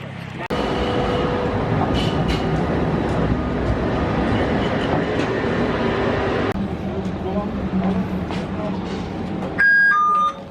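A train rumbles steadily with rolling mechanical noise, close and continuous, people talking over it, and a few electronic beeps near the end. In Turkey, heading to Emirgan Tulip Garden.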